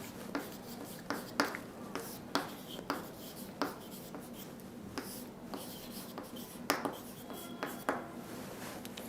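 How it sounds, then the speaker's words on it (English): Marker or chalk strokes on a board during an English grammar lesson: faint, short scratchy taps and swipes coming in irregular bursts, close by and quiet, with no one talking. "Let me write a blank here."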